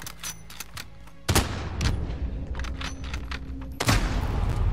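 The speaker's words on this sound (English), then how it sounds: "That's a marksman rifle, not a sniper." Bursts of marksman rifle fire in a video game crack out in a rapid irregular string, several sharp loud shots with a couple of heavier blasts standing out, heard close with no talk.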